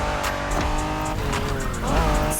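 A 1990s Honda NSX drives hard in The Crew Motorfest racing game, its engine loud and steady as the tires squeal and skid through a turn, all close and continuous.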